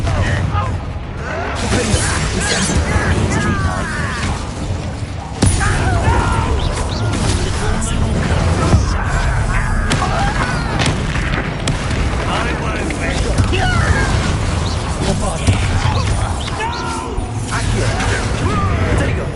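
Bombarda and Confringo spell blasts in a Hogwarts video game come as repeated heavy booms and crashing impacts amid dense, loud battle noise, with voices speaking over the fight.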